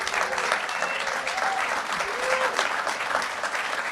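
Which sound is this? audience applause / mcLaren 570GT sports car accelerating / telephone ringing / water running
audience applause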